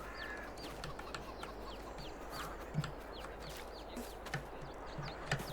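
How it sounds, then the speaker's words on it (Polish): Farm chickens cluck softly and steadily in a barnyard, with scattered short calls over a low, continuous background. "Te zwierzątka. Czyli kury, nie?"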